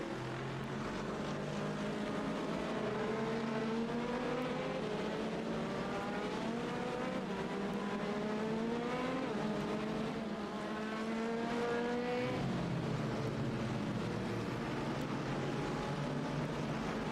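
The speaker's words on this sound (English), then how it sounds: "This is a freight train of cars working their way down towards the horseshoes." Multiple race cars in the iRacing sim at Daytona run as a tight pack, their engine notes rising and falling in overlapping, steady drones with a brief gear shift near the end, loud and continuous throughout.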